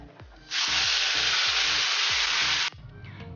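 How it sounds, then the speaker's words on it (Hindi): Onion paste hits hot oil for a Multani chole recipe and erupts into a loud, steady sizzle lasting about two seconds, framed by soft rhythmic stirring or tapping before and after. "जैसे ही ये थोड़ा सा गरम हुए हम इसमें डालेंगे प्याज का पेस्ट"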